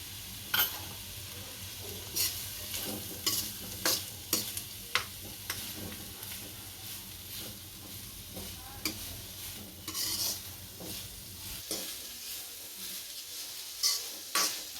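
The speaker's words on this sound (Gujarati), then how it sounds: "આપણા કાંદા અને ગાજર સડી ગયા છે આમાં કેપ્સિકમ નાખશું" Onion, carrot and capsicum stir-fried for veg fried rice, with repeated sharp clinks and scrapes of a spoon against the pan over a faint steady sizzle, close and quiet.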